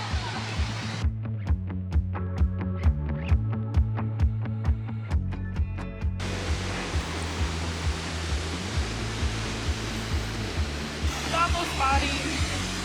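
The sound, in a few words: Horsetail Falls waterfall in Oregon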